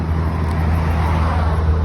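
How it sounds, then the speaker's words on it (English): Loud, continuous road traffic as cars drive past close by, a steady engine and tyre rumble with no voices. "These cars make too much noise."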